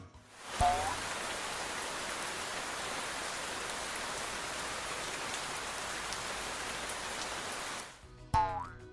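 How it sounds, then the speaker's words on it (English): Steady rain falls as an even hiss of droplets, moderately loud and unbroken for several seconds, framed by short cartoonish boing effects at the start and end. "We're going to listen to the sound of rain."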